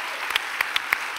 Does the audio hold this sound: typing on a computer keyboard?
no